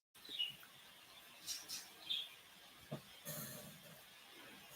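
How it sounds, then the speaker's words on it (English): Birds chirp outside on a quiet day, with sparse, faint tweets and calls spread out against a near-silent background. No one speaks. "The birds out there today just going crazy."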